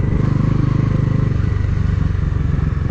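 A Bajaj Pulsar NS400 motorcycle being ridden, its engine a loud, steady, close rumble that holds an even pulse throughout, with no talk over it.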